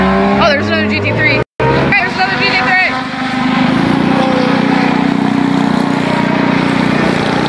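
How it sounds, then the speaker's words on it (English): A Porsche GT3 race car passes on a racetrack with a loud, sustained engine roar that rises and then holds as it goes by, and people talk near the start. "Oh, there's another GT3."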